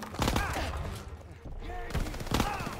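A player's gun fires bursts in Call of Duty: WWII on Veteran mode, several loud close shots with ringing tails, while a voice talks between them.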